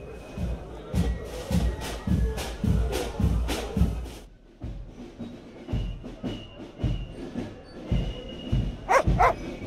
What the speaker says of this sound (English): that dog is blocking off the way